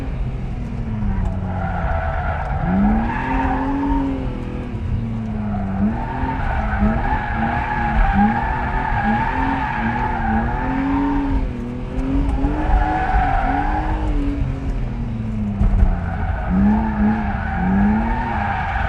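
BMW E36 M3 slicktop drifting on a track, tires squealing in long rising and falling wails over a steady engine roar, with repeated squeal bursts through the run and some talk mixed in.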